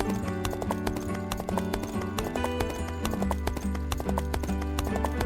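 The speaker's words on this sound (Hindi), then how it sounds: "घोड़े पर चढ़कर अपने गांव के लिए निकल पड़ा।" A horse carries its rider away from a village, its hooves clip-clopping in a quick steady rhythm over a dense, continuous music-like backdrop, with no one speaking.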